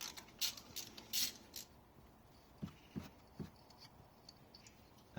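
Ratcheting and creaking of a wrench working a 10mm bolt on an ignition coil pack of a 2010-2016 K13 Nissan Micra engine, a few faint, scattered clicks and turns with quiet gaps between them.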